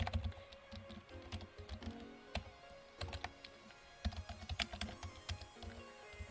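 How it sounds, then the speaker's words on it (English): Computer keyboard keys click during typing, close and fairly quiet, in irregular bursts of quick taps with short pauses between. "You can hear the little keys clicking."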